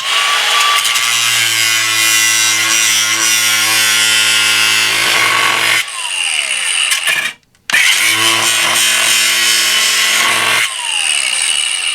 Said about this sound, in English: I might be able to get my Sawzall.